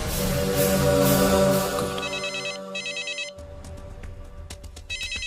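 A phone ringtone chimes in repeated electronic bursts, starting over a louder musical backdrop that fades, then ringing on alone, close and clear.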